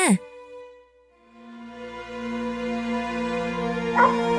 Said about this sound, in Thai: แกเห่าอะไรนะ่ะ